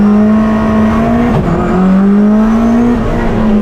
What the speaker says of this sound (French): le moteur qui prend les tours, t'as un espèce de bruit de boîte à air